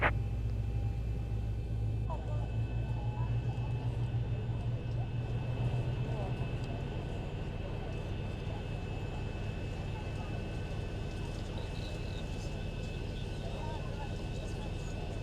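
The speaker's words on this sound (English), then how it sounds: "it sounds like the engine has stabilized. It's almost there." A Boeing 737 engine spools up during start in the X-Plane 11 flight simulator, a steady, loud whining drone with a constant tone that holds for the whole stretch.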